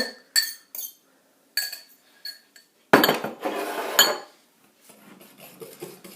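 Apple tart filling of compote being mixed in a bowl, with scattered close clinks and scrapes of a utensil against the dish, then a louder burst of stirring that fades into lighter taps.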